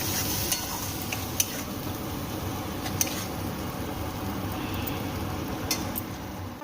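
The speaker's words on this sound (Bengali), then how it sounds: "সমস্ত মশলা আর লবণ হলুদ কড়াইতে দিয়ে দিয়েছি। এবার খুব ভালো করে কষিয়ে নেব।" Ground spice paste with salt and turmeric sautéed in a wok, giving a soft continuous sizzle broken by occasional sharp clicks of a spatula against the pan, fairly quiet and without speech.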